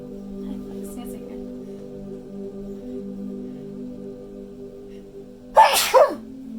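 A single loud, sharp sneeze bursts out near the end over a steady low background hum.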